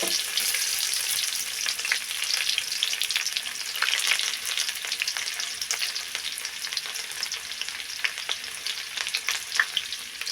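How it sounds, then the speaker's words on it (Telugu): Onions sizzle steadily in a hot pan for egg pasta, a dense, even crackle with occasional pops and light stirring, loud and continuous with no voices. "ముందుగా ఉల్లిగడ్డలు వేసుకుంటున్నానండి"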